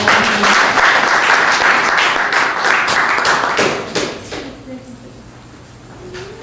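A church congregation applauds at a French-language service in Ottawa, a loud dense burst of clapping that fades over several seconds, with a voice speaking as it dies down.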